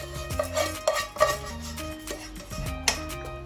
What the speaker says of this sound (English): And mix the rice